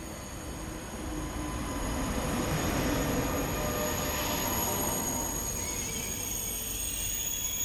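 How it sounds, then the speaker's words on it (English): An Alstom Euro Duplex Boraq high-speed train inbound from Casablanca rolls in with loud, sustained wheel squeal and a steady rushing rumble that holds throughout, close by and with no voices. "here comes the star of today's video, our Boraq high-speed train inbound from Casablanca"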